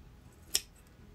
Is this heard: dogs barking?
no